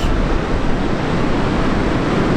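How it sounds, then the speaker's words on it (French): Big ocean waves break on a beach at Cape Reinga, New Zealand, a loud, continuous roar of surf with heavy wind buffeting the microphone throughout. "il y a des grosses vagues qui arrivent"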